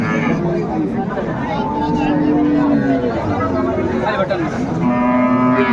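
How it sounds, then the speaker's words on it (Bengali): Cows and calves at a crowded rural cattle market low and moo repeatedly amid a dense hubbub of people talking and bargaining nearby. "গাভী বাছুর আমরা দেখছিলাম এখানে"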